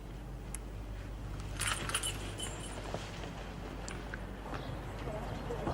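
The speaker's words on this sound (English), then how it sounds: "Here are my keys." A set of keys jingles briefly as it is handed over, a few light metallic rattles over a steady low rumble, with people talking.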